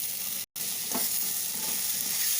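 Capsicum and gram flour curry is stirred in a pan, a quiet continuous sizzle with a soft scrape of the spoon partway through after a moment of silence.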